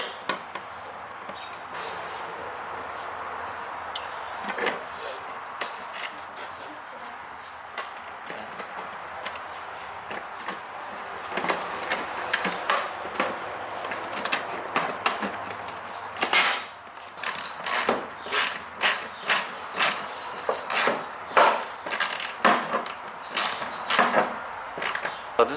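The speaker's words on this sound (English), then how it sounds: "So it's just a washer and a bolt here, and then another washer and a nut on the other side." Small washers, a bolt and a nut being fitted by hand to APR canards on a Sorcery-style bumper of a Honda S2000, giving a run of close, sharp metallic clicks and ratcheting taps that grow busier toward the end.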